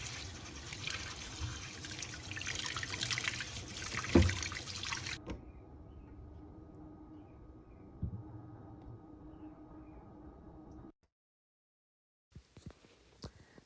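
Lettuce and garden greens washed under running tap water in a kitchen, with a steady trickle and splash that later drops to a quieter flow, then stops before a few faint handling sounds.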